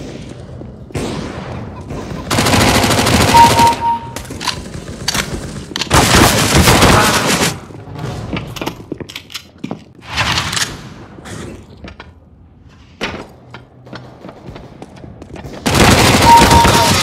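MAC-10 submachine gun fire in CS:GO, loud rapid bursts repeating in several separate volleys with quieter gaps between them.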